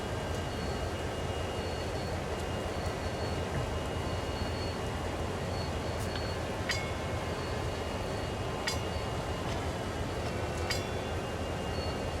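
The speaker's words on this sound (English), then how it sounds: "Let's go back and jump in our locomotive and put it on the turntable." Steady rumbling locomotive in Train Sim World moving slowly onto a turntable at Cumberland Yard, a continuous low drone with faint metallic clicks and squeaks throughout, no talk.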